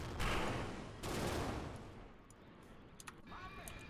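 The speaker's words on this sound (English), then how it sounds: "Fire a couple shots here." Aircraft guns firing in the BeamNG Drive game, two loud bursts of rapid gunfire in quick succession that fade into a low rumbling tail with faint scattered clicks.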